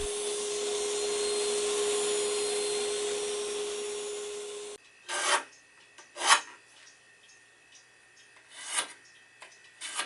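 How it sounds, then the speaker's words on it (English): A hand plane works a piece of rough oak from an old shipping crate: a long continuous rasping hiss first, then several short separate scraping strokes with quiet gaps between, close and without talk. "I had a piece of rough oak that was left over from a shipping crate, and I'm just planing it down here"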